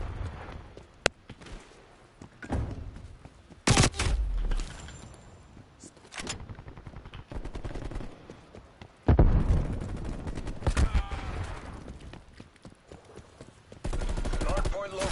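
Gunfire from the shooter game Black Ops Cold War, with sharp shots and short bursts scattered across the clip, loud and near, mixed with other in-game noise and occasional speech.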